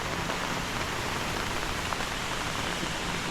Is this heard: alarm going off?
no